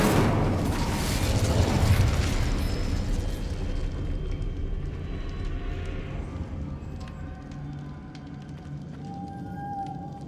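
An Incendio fire spell cast in the Hogwarts Legacy video game bursts out as a loud, roaring whoosh of flame that fades over several seconds into a lingering rumble and faint magical tones.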